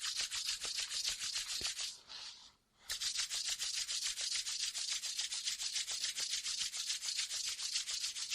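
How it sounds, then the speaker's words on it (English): Palms rubbed briskly together during a yoga routine, a fast rhythmic swishing friction close up, with one short pause before the rubbing resumes at the same quick pace. "Let's rub the palms briskly now."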